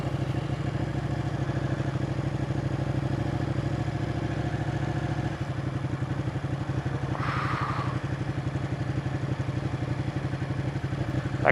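A Ducati 899 Panigale rides through city traffic in Adelaide, its engine a steady, loud, continuous drone close by with a mechanical clatter underneath and a brief rise in pitch near the end.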